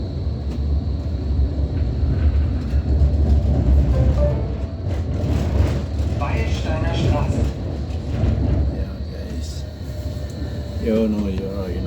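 An S-Bahn commuter train in Berlin rumbles steadily nearby, a continuous low mechanical drone with rail noise throughout, while people talk over it.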